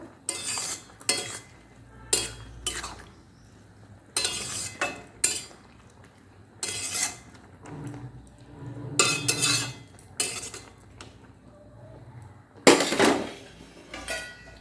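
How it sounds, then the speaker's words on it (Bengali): A spoon stirs jute leaves in a metal pot, with repeated short scraping and clinking strokes at an uneven rhythm, close and fairly loud, and quiet gaps between the strokes. "এবার শাকটাকে আমি ভালোভাবে নেড়ে নেব।"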